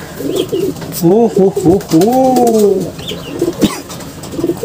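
A blue bar pigeon coos up close in a few rolling, wavering calls, with faint rustling and small clicks around it.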